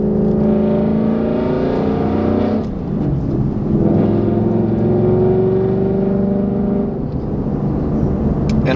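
A supercharged car fitted with a Corsa Performance Xtreme cat-back exhaust, valve in track mode, revs and rumbles loudly up close, with its pitch rising and falling through several throttle blips and no talk.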